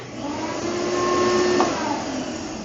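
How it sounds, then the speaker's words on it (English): Close, steady roar of a shop vacuum running in a workshop, switched on through an outlet at the back of a miter saw on a flip-top workbench, swelling slightly and holding level without talk. "turns on the shop vac, which is plugged in to the back of the miter saw right there"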